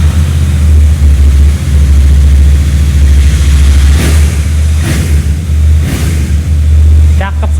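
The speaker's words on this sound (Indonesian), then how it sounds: "Nah, mumpung udah di atas motor, kita coba nyalain ya suaranya." A Royal Enfield Bear 650 parallel-twin motorcycle engine runs loud and close with a deep, steady thumping throb, while a voice speaks briefly over it.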